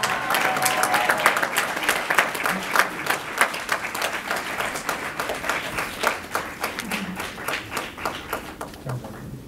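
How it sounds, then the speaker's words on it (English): A convocation crowd gives graduates a warm round of applause, many hands clapping at once, loud at first and gradually thinning into scattered claps as it fades. "Give them a big round of applause."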